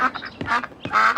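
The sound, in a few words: duck quacking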